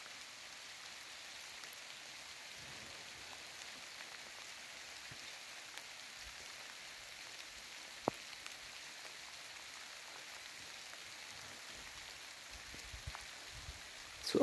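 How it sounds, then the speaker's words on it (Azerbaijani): Light, gentle drizzle patters softly and evenly on surfaces, a faint continuous hiss with scattered tiny drop ticks and no voices. "Çox narın sakit yağır."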